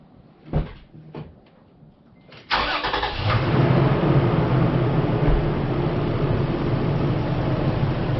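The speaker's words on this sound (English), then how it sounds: "Waiting for vehicle to start." A car engine cranks briefly after a few soft clicks and catches, then settles into a steady, fairly loud idle that runs to the end, with no talk over it. The start comes during a battery test.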